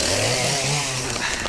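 A chainsaw cuts firewood outdoors at a forest camp, a loud, close, steady high-revving buzz throughout the short stretch.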